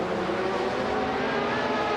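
A 1984 Porsche 962 Short Tail race car in a racing video game, its engine a loud, steady high-revving drone held close and continuous throughout.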